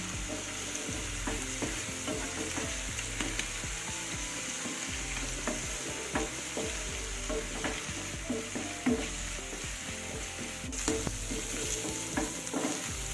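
Onion, garlic and ginger fry in oil over low-to-medium heat for an egg curry, with a steady, dense sizzle throughout and frequent scraping and clattering from a spatula stirring the pan.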